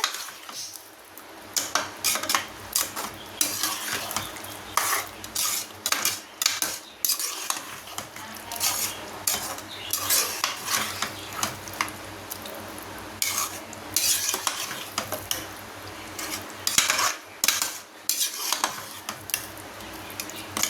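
A spoon stirs thick, spicy tomato thokku in a pan, making repeated scraping and clinking strokes against the metal over a low sizzle, steady and close throughout.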